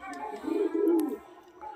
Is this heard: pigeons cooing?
yes